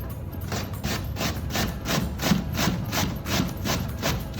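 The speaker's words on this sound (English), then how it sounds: "just cut your apple up. All right, and we're just gonna grate that." A whole unpeeled apple being grated by hand for Christmas red cabbage, with steady rhythmic rasping strokes, about two per second, close and fairly loud, with no talking.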